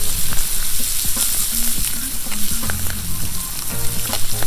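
Mushrooms and steak sear together in a cast-iron pan over an open campfire, making a loud, dense, crackling sizzle that runs unbroken throughout, with faint popping spatters and no speech.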